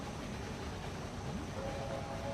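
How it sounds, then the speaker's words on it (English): A train arrives at a station in the video game Railway Empire, a steady low rumble of wagons with faint whistle tones rising near the end. "Got our first train arriving here in Gütersloh"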